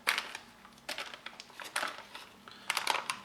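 Muesli being stirred with a spoon in a crinkly plastic ration pouch, giving close, quiet bursts of crunching and rustling that come in uneven clumps.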